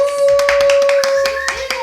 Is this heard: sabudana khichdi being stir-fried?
no